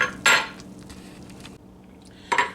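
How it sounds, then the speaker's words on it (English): Cooked beef tongue is set down on a plate with a few clanks of dishware and cutlery, and its skin is peeled off. There are two louder knocks near the start and end, with quieter handling in between and no talk. "I'm going to take this out, put it on the plate, and peel that part off"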